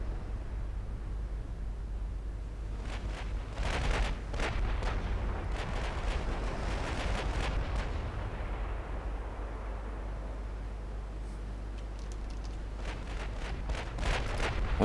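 Naval guns of battleships and battlecruisers in Ultimate Admiral: Dreadnoughts fire in repeated distant booms, irregular volleys cracking over a constant low rumble of wind and sea.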